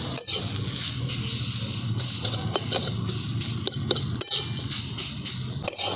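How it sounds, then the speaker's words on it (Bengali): Susni greens sizzle in a hot pan with potatoes while a utensil stirs them, a constant bright hiss broken by regular scraping knocks against the pan. "শাকটা দিয়ে আমি খুব ভালো করে এরকম করে নেড়ে দিচ্ছি।"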